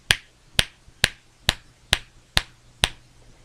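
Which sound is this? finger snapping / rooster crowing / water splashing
finger snapping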